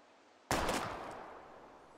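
A single sharp gunshot fired at bottles in the Life Is Strange video game cracks out loud and close after a quiet lead-in, its blast decaying slowly over the following second and a half.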